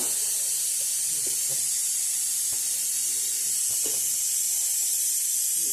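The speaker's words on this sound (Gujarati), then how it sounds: "હવે આપણે ગેસ ચાલુ કરીશું અને ગેસ ઉપર આને ચડાવી દઈશું" A lit gas stove burner hisses steadily under a pan of mango mixture, a constant close rushing with a few faint clinks and taps from the kitchen.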